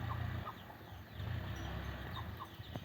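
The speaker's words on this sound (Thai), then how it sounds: "แม่ไก่กับลูกเป็ดค่ะพี่น้อง" Soft, repeated low clucking from a mother hen leading ducklings to forage, close by, in short bursts with faint chirps from small birds in the background.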